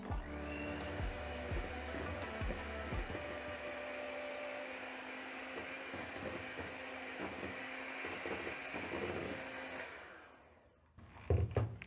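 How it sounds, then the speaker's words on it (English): An electric mixer beats cake batter for a marble cake, a loud, steady whirring drone with light rattling that runs for about ten seconds before cutting off, followed by a couple of clunks. "Then I'll use my mixer and mix."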